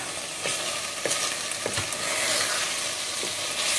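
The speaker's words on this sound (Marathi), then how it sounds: "मीडियम गॅस दवरले हांवें आनी हो मसाला बरो फ्राय केला" Masala for Goan pork vindaloo fries in a pan over medium gas, giving a continuous loud sizzle close by, with faint stirring taps.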